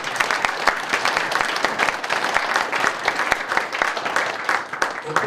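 An audience at a political lecture breaks into brisk, steady applause, many hands clapping together at close range, with some crowd noise underneath.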